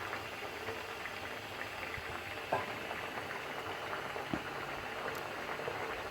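A pot of raw bean-seed dal cooked with a fish head simmers quietly on the stove, giving a soft, steady bubbling hiss with a few faint clicks and no talking.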